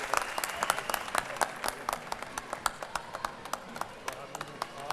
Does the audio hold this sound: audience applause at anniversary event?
yes